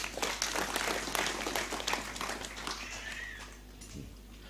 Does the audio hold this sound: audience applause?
yes